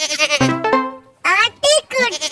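A goat's bleat, or a voice mimicking one, comes as a loud, wavering, quivering cry with several pulses and a pitch that bends, close and alone.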